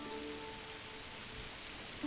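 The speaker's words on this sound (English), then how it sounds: "here comes the rain" Steady rain falls in the medieval village-building game Manor Lords, a soft, even patter of drops across the whole moment, with no talk.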